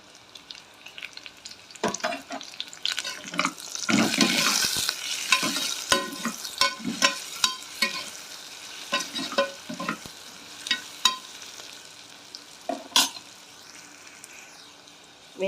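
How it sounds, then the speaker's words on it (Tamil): Onions and dried red chillies sautéing in a pan for manathakkali keerai charu, with a soft sizzle under repeated close scrapes and taps of a ladle stirring, no talk. "வெங்காயம் வதங்கினது போதும்."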